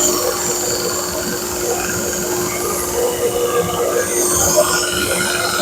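Belt grinder regrinding a rusty stainless steel knife, a continuous loud abrasive whir with a steady tonal hum and gritty scraping, close and uninterrupted throughout.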